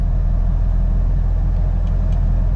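A John Deere gasoline engine with its throttle being advanced, a steady close-up low rumble with a throbbing hum that holds constant throughout, no voices.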